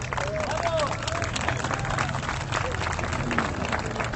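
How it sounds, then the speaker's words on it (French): A crowd at an outdoor public debate applauds the first speaker, with steady, moderately loud clapping mixed with crowd noise and voices throughout. "Large applaudissement pour la première intervenante sur ce débat"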